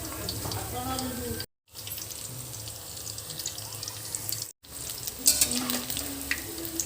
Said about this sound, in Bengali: পকোড়াগুলো ভাজতে হবে